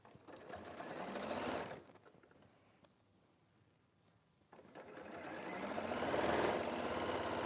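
Sewing machine stitching a bag, running in two steady buzzing bursts of a couple of seconds each, separated by a quieter pause, fairly close and alone without talk.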